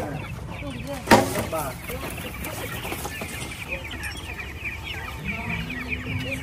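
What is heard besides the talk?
chickens clucking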